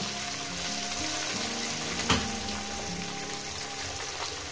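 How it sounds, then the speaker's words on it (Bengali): Small mourala fish sizzle in hot oil with a steady, dense crackling hiss, close and alone, broken once by a short sharp clink midway. "আমি মাছগুলো 2 সেকেন্ড ভেজে নেবো গরম আছে"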